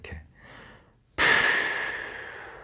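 A voice imitates an ox's long snorting breath: a brief soft puff, then a sudden loud, breathy exhale that trails off slowly over more than a second, close and alone.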